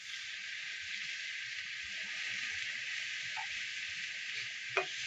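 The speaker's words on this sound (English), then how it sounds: "You gotta stir the vinegar." Vegetables in a frying pan with vinegar stirred in give off a constant bright sizzling hiss, with soft scraping stir sounds and a sharp clink near the end.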